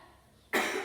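A teacher who is slightly ill coughs once during a classroom teaching simulation; a single loud, harsh cough bursts in close to the microphone after a quiet moment and trails off briefly, with no talking over it.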